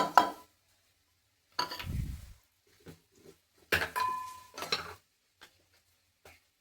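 A spoon scrapes and clinks against a metal pot while cooked dal is stirred with mango pieces, a few separate bursts with short pauses between them, close by and clear with no talking.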